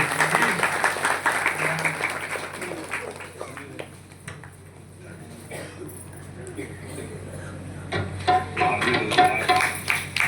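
Audience at a morning Kartik katha gathering at a Gita Bhavan temple claps in bursts around a man's speech. The clapping is dense at the start and swells again near the end.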